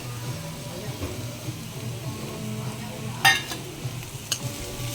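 Spices stir-fried with golden brown onions for mushroom butter masala: a soft, steady sizzle under low talk, with a couple of sharp spoon-against-pan clinks near the end.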